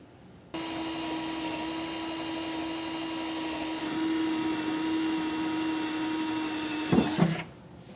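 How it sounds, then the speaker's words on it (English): A power drill bores pilot holes in the bed of a 2018 GMC truck, a steady whirring drone that starts abruptly, holds for about seven seconds with a brief rattle near the end, then cuts off. "So we can get our rail out of the way now and get some pilot holes drilled."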